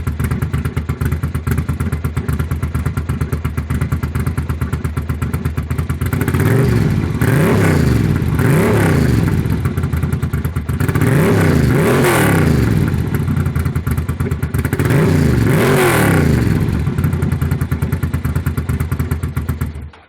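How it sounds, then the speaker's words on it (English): A custom Ducati Monster 750 cafe racer's L-twin exhaust idles with a loud, lumpy throb, then revs hard in three rising, blaring bursts before settling back to a steady idle, close and with no talking. "you want to hear that L-twin sort of blasting out to its full potential"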